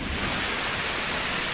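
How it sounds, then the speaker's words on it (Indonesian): Steady heavy rain hisses throughout, with a low thunder rumble underneath; no voices, just the dense wash of the downpour. "Wah, hujan beneran."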